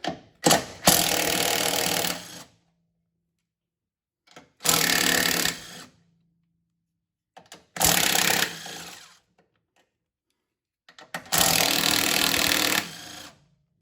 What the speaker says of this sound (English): Let's go ahead and remove the upper strut nut.